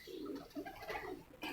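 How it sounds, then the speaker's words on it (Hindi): A pigeon, a prized high-flying racing breed, perched on a house rooftop gives soft low cooing calls, close and fairly quiet, in a short run of murmuring coos. "ये 8:25 पर बैठा हुआ कबूतर जी इशफाक खान की छत पर"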